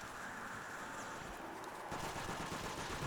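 A DP-28 machine gun firing in a Call of Duty custom Zombies map, rapid sustained bursts of gunfire heard up close with no talk.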